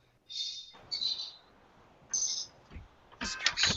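Birds chirp in short bright bursts of twittering, played back over a radio show, with a few quiet pauses between calls and a final louder cluster of chirps.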